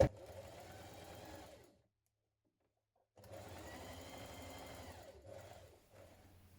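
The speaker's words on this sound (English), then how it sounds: "Stitch along the fold back of your pocket, catching to the edge." A sewing machine edge stitching the folded-back edge of a dress pocket runs in two steady bursts of rapid stitching, close up, with a silent pause between them and a brief stop-start near the end.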